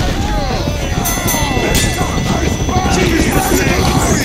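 Loud continuous helicopter rotor drone with thudding blade chop in Team Fortress 2 zombie escape gameplay, game-like effects and voices layered over the top.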